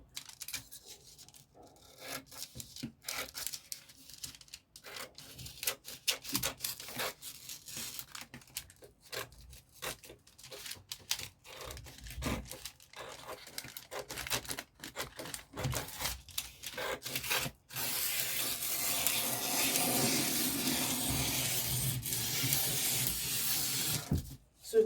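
Scissors cut out fabric pieces for a gown with side ruffles, producing close rasping snips and rubbing in an uneven rhythm, followed near the end by a steady, louder hiss of sliding cloth, with no talking.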